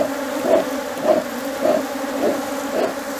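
Honey bees buzz steadily around an open, calm, strong hive during a honey-season inspection, the drone swelling in soft regular pulses about every half second as individual bees pass close by.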